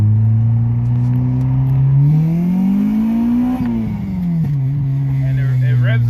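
Honda Civic fitted with a swapped Honda H22 engine revving up in a steady climb, its pitch rising and then falling back to idle, loud and close, a lone throaty engine note holding throughout.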